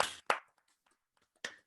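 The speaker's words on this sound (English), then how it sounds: "Let's clap it up real quick" A few sharp, close hand claps from sports talk show hosts in a studio, three isolated bursts with quiet gaps between them and no talk over them.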